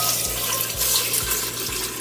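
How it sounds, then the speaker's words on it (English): Water streaming steadily from a tap into an Instant Pot over dry boxed macaroni noodles, a continuous close hiss and splash with a faint periodic low thump. "you want to make sure you add enough water that the top of the dry noodles are covered"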